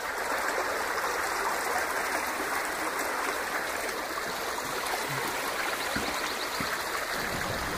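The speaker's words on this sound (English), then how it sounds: "So here's that brook that I heard coming in right away." A clear forest brook flows steadily over rocks in a town forest, a constant broadband rushing and bubbling wash close by, even in loudness throughout with no voices.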